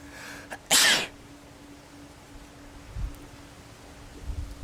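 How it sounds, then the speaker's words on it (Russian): A single loud, sharp sneeze bursts out near the start from a person sneezing on looking at the sun outdoors, followed by quiet breathing, faint rustles and light outdoor background. "Вот, пожалуйста, чихаю на солнце."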